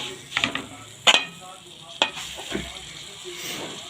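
Dry fruits and nuts tipped into a hot pan and stirred, giving loud scraping and clattering strokes at irregular intervals over a steady low sizzle.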